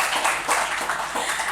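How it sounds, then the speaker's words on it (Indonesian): Audience applause at a live talk session, a short burst of steady clapping from many hands, fairly close and without voices over it. "berikan tepuk tangan dong untuk pertanyaan terakhir ya di sesi hari ini"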